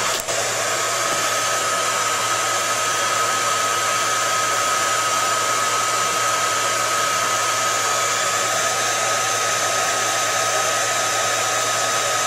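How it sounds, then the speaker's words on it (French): An electric heater draws power from an Allpowers R4000 portable power station, producing a steady, loud, continuous fan-like whir with a constant electrical hum throughout, no voices. "Alors je vais augmenter un petit peu le radiateur électrique."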